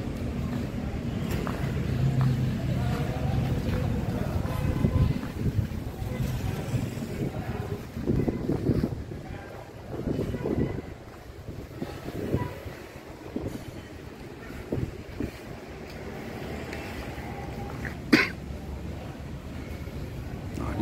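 The ALS 253 intercity bus with air suspension, heading to Jogja, is heard from inside as it drives: a steady low engine and road rumble with wind buffeting the microphone, easing somewhat midway, with a brief sharp knock near the end.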